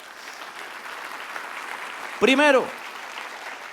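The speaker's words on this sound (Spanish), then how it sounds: "Dele un aplauso al Señor" A church congregation applauds softly and steadily during a sermon on the baptism of the Holy Spirit, then a voice briefly speaks up over the clapping near the end.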